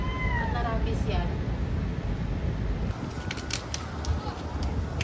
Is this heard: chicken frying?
no